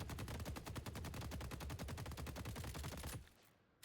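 Rapid automatic gunfire from the video game Deadlock as a full magazine is emptied: a dense, loud, evenly spaced burst of shots lasting about three seconds, then cutting off abruptly into near silence.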